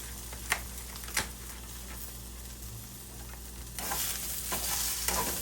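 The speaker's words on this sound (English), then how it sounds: "toss these in the oil so they don't stick" Sausage links sizzling in hot oil in a pan, a steady frying hiss with a couple of sharp clicks early on and the sizzle swelling louder toward the end, close and without talk.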